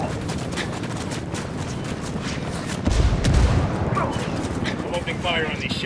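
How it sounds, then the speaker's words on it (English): Gunfire in the shooter Ghost Recon Wildlands at a desert airport, with bursts of rapid shots crackling over a busy battle din and a heavier burst of nearby fire midway. "I'm opening fire on these shitheads"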